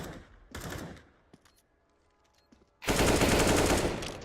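Gunfire from a CS:GO match in a league game comes in two short bursts, then a long, loud automatic burst near the end, with faint clicks and footsteps in the quiet gap between.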